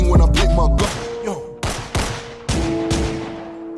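Gunshot effects in a UK rap track, several sharp loud shots in an uneven burst, each with a ringing tail over the music.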